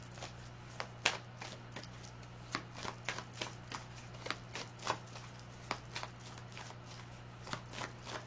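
Oracle cards are shuffled by hand up close, with a string of soft, crisp riffling flicks repeating irregularly over a faint steady hum.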